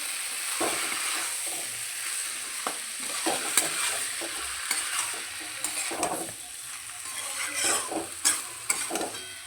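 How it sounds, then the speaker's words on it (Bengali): Spice-marinated small chuno fish stirred in a frying pan for chorchori, with close crackling sizzle and frequent scraping, tapping spatula strokes in an uneven rhythm, no speech. "মশলা মাখিয়ে রাখা মাছটা দিয়ে দিচ্ছি একটুখানি মাছগুলো দিয়ে নাড়াচাড়া করে নেব ভালো করে"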